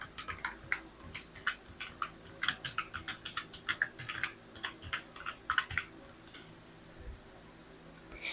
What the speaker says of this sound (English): Type in a heading like welcome to my website.